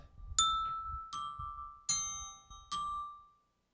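A clock bell chimes the quarter hour with four clear, evenly spaced metallic strikes, each ringing out and decaying before the next, the last fading away in quiet with no talking.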